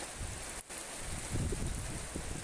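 Soft, steady rain falling, a continuous quiet hiss with low patter underneath.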